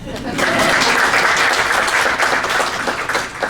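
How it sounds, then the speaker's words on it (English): An audience at a fair hiring event applauds, a dense wash of clapping rising quickly and holding loud and steady for a few seconds. "You can applaud Selenia."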